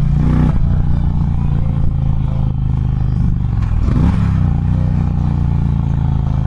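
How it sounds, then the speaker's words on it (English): An Indian Challenger motorcycle rumbles loudly and continuously while being ridden, its barky exhaust giving a steady low drone with a brief shift in pitch midway, mixed with wind and road noise. "I really hope the exhaust gets picked up through the mic, because it is a very, very barky"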